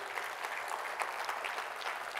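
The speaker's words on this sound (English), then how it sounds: "So let's give him a round of applause too." An audience claps steadily in sustained, even applause, heard alone at moderate distance for a couple of seconds.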